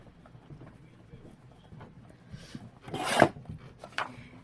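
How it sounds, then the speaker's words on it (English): A utility knife trims a white border off paper, making one short, close scraping cut near the end over a quiet background. "So let me just go ahead and trim this white off of here."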